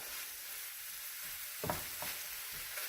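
Ground beef and garlic cook in a pan for shepherd's pie, giving a faint, steady sizzle with a few soft scraping stirs near the end.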